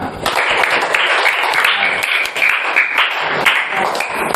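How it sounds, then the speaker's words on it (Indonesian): A classroom of students claps together in a religious studies lesson, an uneven patter of hands close by with brief bursts and a few faint voices. "tepuk tangan buat kita semua."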